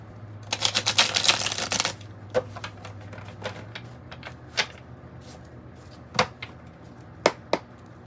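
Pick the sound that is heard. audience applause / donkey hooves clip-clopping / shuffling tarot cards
shuffling tarot cards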